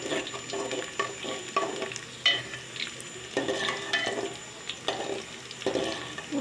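Onions frying in oil with cardamom, cinnamon, cloves and bay leaves for plain pulao, a continuous moderate sizzle broken by repeated spatula stirs and scrapes against the pot.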